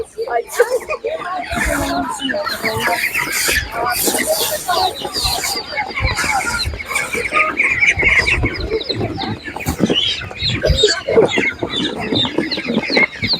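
Chickens cluck and squawk at an outdoor animal market selling poultry, with the birds close and busy throughout while people talk over and between the calls.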